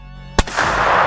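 A single loud gunshot from a .45 or a Mosin rifle cracks close by, sharp and sudden, then a broad roar of noise continues after it.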